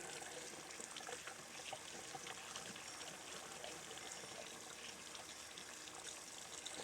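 Tap water runs in a soft, steady stream while six eggs are rinsed under it, a faint continuous trickle and splash heard close by without any voices.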